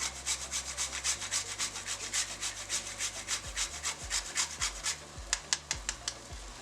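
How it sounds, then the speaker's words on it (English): A whole nutmeg grated by hand for Caribbean baking, a close, steady rhythmic rasping of about two or three strokes a second that continues without pause. "I'm going to grate some nutmeg, about 1/4 of a whole nutmeg."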